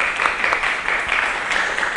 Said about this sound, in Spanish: Yo les pediría un aplauso para Rolando.